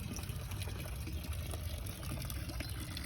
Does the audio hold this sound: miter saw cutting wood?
no